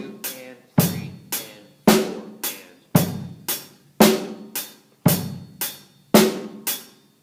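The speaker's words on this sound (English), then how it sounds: "measure 2 now we're adding an eighth note on the hi-hat in between each beat." A drum kit plays a steady groove with eighth notes on the hi-hat between each beat, alternating strong accented hits and lighter ones in an even rhythm, close and alone with no talking.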